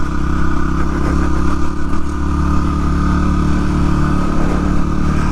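A motorcycle fitted with suspension rides along steadily, its engine droning loud and close with a constant hum and light clatter, no voices.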